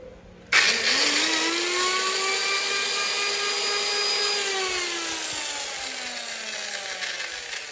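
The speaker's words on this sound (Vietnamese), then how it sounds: "con này là cưa xích nhé" A Makita 220V electric chainsaw switches on abruptly and whines at a high, steady motor pitch with its chain running, sounding close and loud before the speed sags slightly toward the end.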